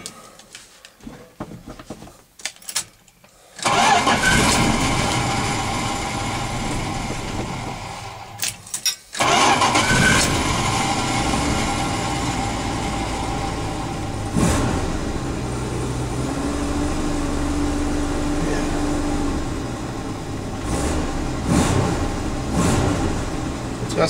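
A Dodge truck engine cranks and catches after a brief quiet gap, then a second start follows and the motor runs steadily with revving swells, loud and close, with a few voices in between.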